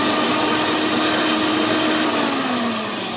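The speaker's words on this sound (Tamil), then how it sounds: "இப்போ அரைச்சிடுவோம்." A mixer grinder whirs loudly and continuously up close while grinding green chutney, a dense motor drone that holds steady and eases slightly at the end.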